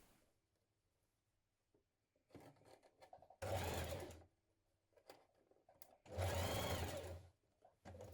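Sewing machine running a 1 cm seam on a blouse in two loud, close bursts of whirring stitches, a few seconds each, with quieter handling sounds between them.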